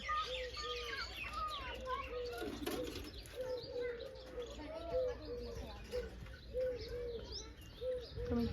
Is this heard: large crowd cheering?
no